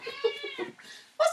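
A pet cat named Betty meows several times in a row, close and fairly loud, with a final sharper, higher cry at the end; no one talks.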